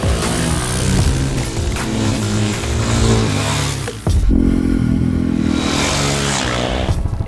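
A 2018 Suzuki DRZ 400 SM supermoto on 17-inch street tires, its single-cylinder engine loud and close throughout, holding a steady drone with a brief dip and a quick throttle change near the middle.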